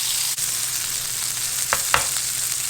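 Wagyu beef burger patties frying in a pan, a steady close sizzle with a couple of brief scraping stirs near the end, no voices.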